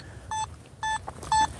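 Metal detector returning tones from metal poles, three short steady electronic beeps evenly spaced over a quiet background.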